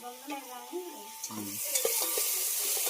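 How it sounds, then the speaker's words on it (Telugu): Ginger garlic paste fries in a pan, a soft continuous sizzle that builds slightly louder over a few seconds, with faint stirring scrapes near the start. "పచ్చివాసన వరకు బాగా ఫ్రై చేసేస్తుంది."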